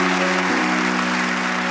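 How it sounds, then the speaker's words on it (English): An audience applauds the Oakham school choir at a senior school choir semi-final, a brief, steady wash of clapping filling the hall with no talk. "And round of applause for Oakham."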